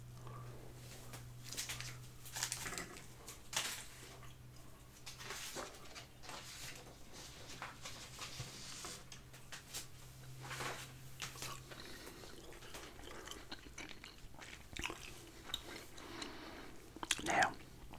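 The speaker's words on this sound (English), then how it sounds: "Extra chewing gum, and I'll open that up and pop the pink piece of gum" Pink Extra chewing gum is chewed close to the mic in a quiet setting, with soft wet smacks and squishy clicks repeating irregularly and faint whispery breaths around them.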